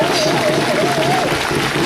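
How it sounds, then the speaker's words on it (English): An audience claps at a poetry reading, a dense, even wash of applause that holds steady at a fairly loud level while a voice talks over it. "Don't clap, there's no time."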